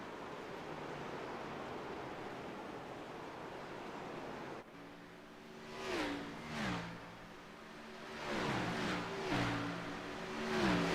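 Race cars circling the track at Richmond during a late-race battle, their engines swelling past in repeated pulses after a steady wash of noise, with rising and falling revs as the cars pass by at moderate distance.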